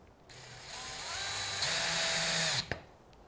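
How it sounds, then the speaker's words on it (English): A power drill driving screws into plywood panels of a barn owl nest box, a close whirring motor that rises in pitch and strains for about two seconds, ending in a sharp click. "When you're screwing the back panel and the front panel onto the side panels"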